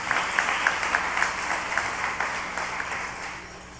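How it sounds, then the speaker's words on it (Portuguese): Audience applause in a church after a gospel reading at an evening mass, a steady wash of many hands clapping, moderately loud and fading toward the end, with no talk over it. "Vamos aplaudir essa palavra."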